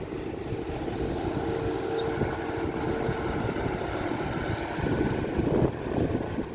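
Steady, roaring wind buffets the microphone, a dense continuous rumble with no pauses and no voices.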